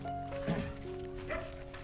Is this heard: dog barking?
yes